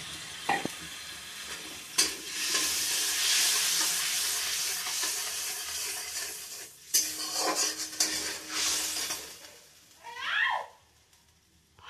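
Spice paste for singhi fish stew fries under a lid in a pan, a loud steady sizzle broken by spoon scrapes and clatters, then fading near the end.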